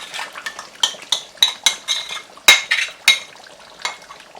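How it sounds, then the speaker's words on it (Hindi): Mutton achari korma being mixed quickly with whisked room-temperature yogurt over a low flame: a string of sharp spoon scrapes and clinks against a pot, close and fairly loud, with a soft wet stir between strokes. "दही चली गई, इसको जल्दी जल्दी आपने मिक्स करना है फ्लेम लो रखकर"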